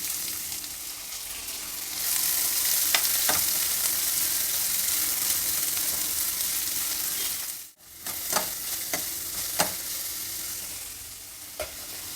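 Chopped onions and cumin seeds sizzle in hot oil in a pan, a steady bright frying hiss with a brief dip midway and several scraping stirs of a spoon near the end.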